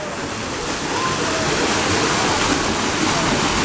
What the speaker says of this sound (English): I got the cool waterfall.